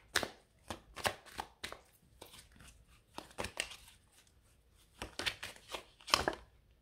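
A deck of cards being shuffled, quiet and close, in bursts of quick riffling flutters and snaps separated by short pauses.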